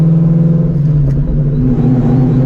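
A straight-piped Ford Shelby GT350's engine idles and revs steadily up close, a low rumbling drone with slight rises in pitch, no voices.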